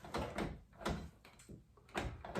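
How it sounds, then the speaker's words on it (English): The driver's door of a 1995 Nissan D21 pickup truck with a stuck lock is worked open, a quiet series of close mechanical clunks and latch clicks in uneven rhythm. "So I'll open the door a little and see."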